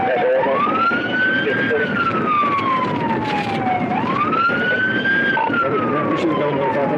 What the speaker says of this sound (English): activated emergency lights and sirens as soon as the light turned green